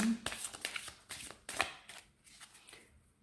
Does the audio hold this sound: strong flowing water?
no